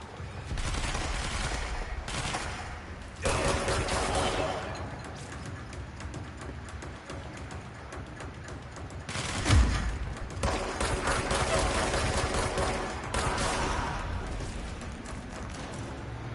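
Sustained gunfire from the video game Control rattles almost continuously in dense bursts, with brief lulls and a heavier thump near the middle, loud and close throughout.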